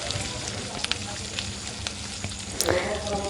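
Mashed chicken and potato with garlic and ginger sizzle steadily in hot oil, a close, continuous crackling fry with a brief clatter near the end.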